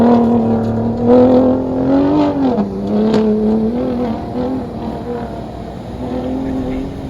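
A 2021 Ford Raptor's engine and exhaust pulling hard in the desert from a standing start, a loud steady drone that rises and dips slightly in pitch as it accelerates, with no talking.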